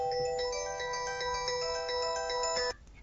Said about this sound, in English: That was my phone and I had to take it.